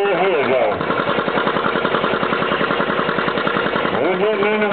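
An antique John Deere tractor pulling at an antique tractor pull, its engine giving a loud, rapid, steady putting that swells between quieter moments at the start and end, with a crowd and an announcer heard around it.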